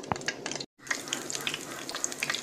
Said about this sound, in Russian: С одной стороны пожарится, переворачиваю на другую сторону и на другой стороне жарю.